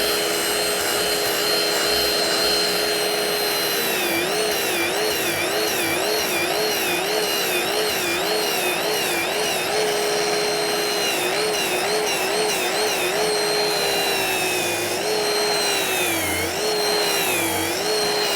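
A power carving tool is used like a gouge to shape a wooden seat, a steady high whine with a loud motor drone that wavers in pitch as it bites into the wood, continuous and close.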